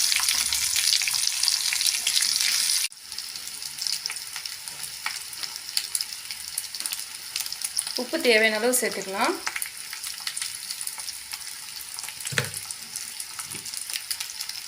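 Raw banana slices fry in a pan over a medium flame, a steady close sizzle with stirring scrapes and clinks, while someone speaks briefly over it.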